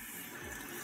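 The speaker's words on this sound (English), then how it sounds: "just run the brush underneath water" A spin brush is rinsed under running tap water, a brief steady hiss and splash of the flow, close and faint with no voices.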